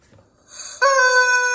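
A toy rubber chicken lets out a rising, squeezed squawk that settles into a loud, sustained honking tone, close and alone.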